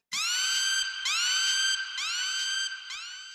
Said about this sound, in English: It's the Siren sound.